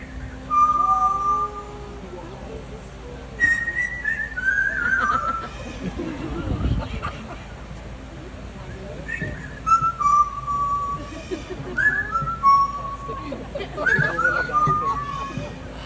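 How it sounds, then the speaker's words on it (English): A person whistles a made-up tune at an outdoor bird show, with short melodic phrases rising and falling in bursts against a murmuring crowd and people talking in the background. "He'd love to whistle a tune for you."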